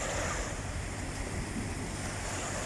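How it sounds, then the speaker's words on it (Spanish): Waves raised by passing ships lap and wash beneath the Bridge of the Americas on Panama City's bay: a steady, close surge of churning water with wind buffeting the microphone throughout. "estas olas las hace prácticamente la misma presión del barco"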